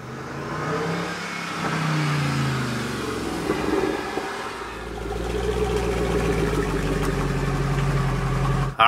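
A Mercedes-AMG car engine idles with a low, steady rumble close by, lifting briefly into a short rev partway through before settling back to a deep, even idle.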